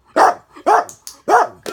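A dog in a crate during object-holding training barks three times in a loud, evenly spaced series, close by, with a short clipped yip at the end and no talking.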